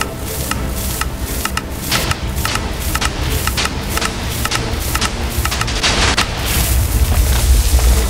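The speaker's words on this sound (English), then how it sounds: "I think my cannon just exploded." Cannon fire in the video game Airship Pirates World aboard an assault cruiser, a loud, dense barrage of repeated booms and crackling blasts over a constant rumbling bed, growing heavier toward the end.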